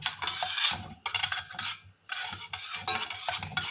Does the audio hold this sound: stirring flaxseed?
yes